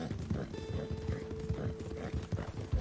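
Horse hooves clip-clop in a steady walking rhythm in Red Dead Online, close and clear, with a faint whinny-like tone mixed in and no talking.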